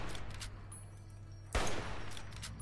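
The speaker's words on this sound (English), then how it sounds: "That's the hunting rifle." A hunting rifle fires in the video game Fallout New Vegas, one sharp loud shot cracking out over a low steady game hum, with fainter distant pops before it.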